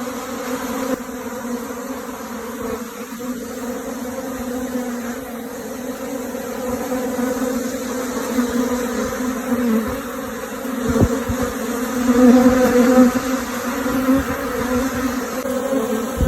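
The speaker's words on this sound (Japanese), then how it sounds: "巣門からたくさんの蜂が歩いて出てきています" Japanese honeybees pour out of the hive entrance as a swarm begins, making a dense, steady buzzing drone close by that swells louder toward the end, with no voices.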